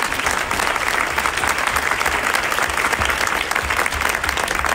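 An audience applauds at a live talk, a dense and even burst of clapping from many hands that carries on without a break, close and loud.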